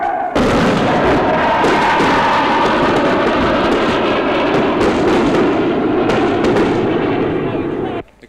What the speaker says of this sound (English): Firing rockets at what we assume is a new army colony on the south of the town